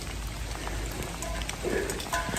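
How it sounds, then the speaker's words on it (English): Rain falls steadily outdoors, a constant dense hiss of drops with occasional closer patters on nearby surfaces. "if you wanted to know what the weather is like today, surprise, surprise, it's raining"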